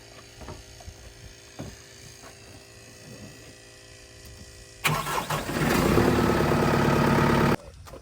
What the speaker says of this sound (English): so we're just gonna start the tractor